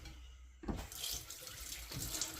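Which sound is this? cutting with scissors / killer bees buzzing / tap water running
tap water running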